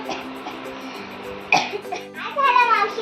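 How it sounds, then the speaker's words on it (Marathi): An older woman coughs in a burst of harsh, close coughs midway, followed by a raspy throat-clearing sound, with a voice talking before and after. "काय झालं मावशी, तुला खोकला लागलाय का?"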